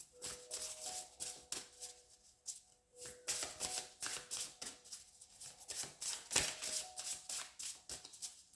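Tarot cards are shuffled by hand in quick riffling bursts of soft papery slaps and flutters, repeating with short pauses in between. The sound is close but quiet, with no voice over it.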